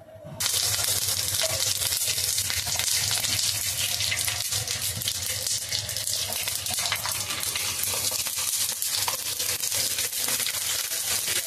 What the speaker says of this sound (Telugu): ఇప్పుడైతే వేయిస్తున్నానండి